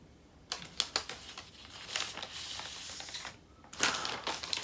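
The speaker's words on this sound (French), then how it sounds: "Oh, j'adore le papier cadeau." Gift wrapping paper crinkles and tears in quick bursts as a present is unwrapped, close and crisp, with short rustling pauses between rips.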